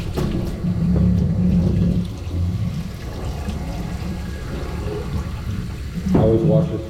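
Running water from a hose or tap at a bathing station rinses an American Pocket Bully's face, a steady close wash that swells at the start and surges again near the end.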